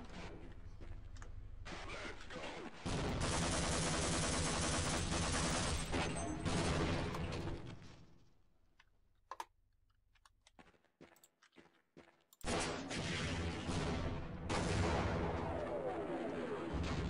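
A Half-Life game rocket launcher sounds as loud, dense bursts of blasts and explosions, broken by a short quieter stretch with scattered clicks before another heavy burst.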